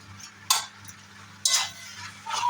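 Soybean chunks with fresh ginger are stirred in a pan, with a few distinct scraping strokes over a faint, quiet background hum.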